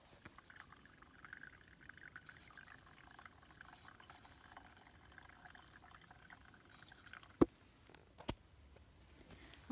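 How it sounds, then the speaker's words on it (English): Boiled hot water being poured into a Mountain House breakfast skillet pouch on a trail campsite, a soft steady pouring trickle, fairly quiet, followed by two sharp crinkly knocks near the end. "I just put the hot water in here that I boiled"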